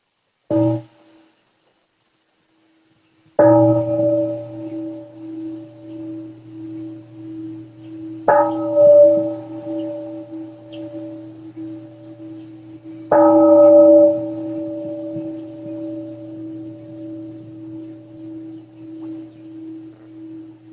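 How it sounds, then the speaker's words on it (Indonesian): A meditation bell is struck three times at even intervals. Each clear, resonant ring rises sharply and then hums on in a long, fading sustain in a quiet room. "kita akhiri sesi pagi kita ini dengan mendengar 3 bunyi genta"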